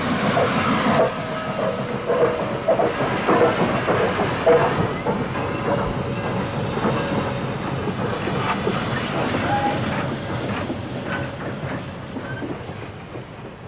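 A Norfolk and Western 1218 steam locomotive, built in 1943 in the railroad's own shops, rolls past with a steady loud rumble and clattering wheels, a continuous wash of rail noise with faint hiss throughout.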